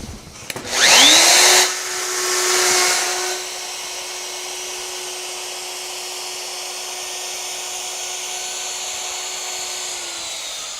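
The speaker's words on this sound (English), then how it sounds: "So I've already set this router to that depth." A wood router cuts along the bottom edge of a clamped workpiece: a loud whining burst as the bit bites into the wood, then a long steady motor whine running alone at even pitch.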